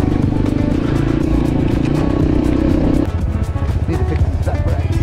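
Motorbike ridden along a dirt mountain-bike trail near a dam, engine droning loud and close with a steady tone that drops to a lower, rougher note midway, with rattling from the trail.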